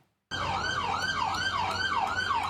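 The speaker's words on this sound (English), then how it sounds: "Police sirens and officers." A wailing police siren cycles rapidly up and down in pitch, loud and steady, starting abruptly after a brief silence.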